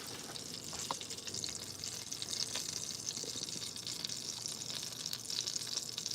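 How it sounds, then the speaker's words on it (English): Melted plant-based butter, two tablespoons, sizzles in a pan for a sauce, a steady close crackling hiss with small pops running throughout, no voices. "The butter has melted in the pan."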